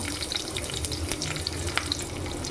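Onion, cabbage, beans and other vegetables frying in a pan, a steady close hiss of sizzling with faint scattered crackles and scraping, no talk.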